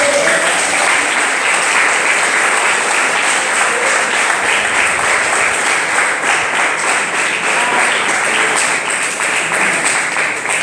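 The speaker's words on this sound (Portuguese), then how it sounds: "Vamos aplaudir Jesus?" A church congregation claps together in sustained, loud, even applause during a worship service, continuing steadily without pause.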